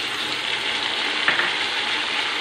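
Onions sauté in a pan for fish curry, giving a constant close sizzle and frying hiss, with a small clatter partway through as tomatoes are added.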